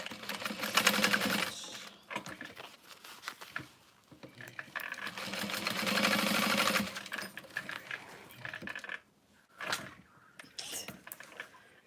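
A sewing machine stitches a backpack at a long stitch length, running in several steady bursts of rapid mechanical clatter separated by brief pauses, close and fairly loud.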